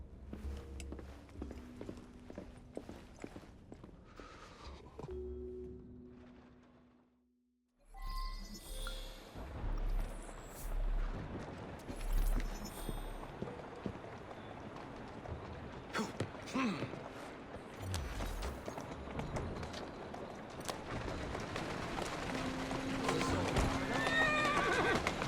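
A horse in Assassin's Creed Syndicate whinnies loudly, then its hooves clip-clop at a walk over hard ground, with a character talking over the steady hoofbeats and ambient street noise.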